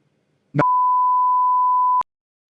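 A single steady phone tone holds for about a second and a half after a short click, clear and close, with no talk over it.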